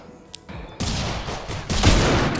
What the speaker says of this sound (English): That was a cool shot.